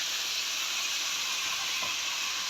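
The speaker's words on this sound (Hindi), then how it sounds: "डाल देंगे यहाँ पर आलू और पालक" Diced potatoes and spinach drop into hot mustard oil tempered with cumin, chillies and asafoetida, giving a loud, steady hiss and sizzle that runs unbroken throughout with no voices.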